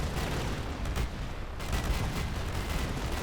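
Tanks firing during a Command and Conquer Generals match, played with the End of Days mod, as fairly faint, steady gunfire and artillery-like booms under a continuous dense wash of battle noise.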